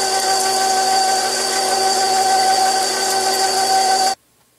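A KitchenAid electric meat grinder runs steadily while grinding meat, a close, loud, even motor whine with a strong steady hum that holds without change for about four seconds, then cuts off abruptly into silence.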